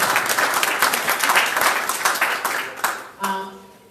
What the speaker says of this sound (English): give a big round of applause to Hassan Sheikh and his team putting this together